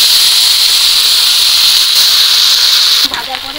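Jute leaves frying in hot oil: a loud, steady hiss that continues throughout, with a voice heard briefly near the end.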